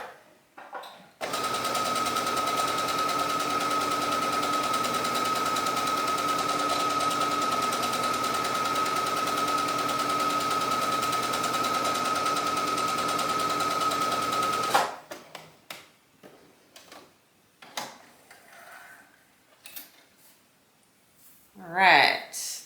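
A sewing machine runs a long gathering stitch along the tops of blouse sleeves, a loud, steady whir for about thirteen seconds, then stops, followed by light handling clicks and brief talk.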